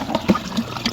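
Pool water draining in a backyard pool during maintenance, a steady close watery wash with small gurgling surges, alone with no talk.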